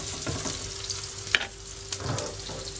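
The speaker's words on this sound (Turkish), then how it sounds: "Burada da biberlerim kızarıyor zaten." Peppers fry in a dry pan without oil, a soft steady sizzle with occasional stirring scrapes and a sharp clink, close but quiet, with no one talking.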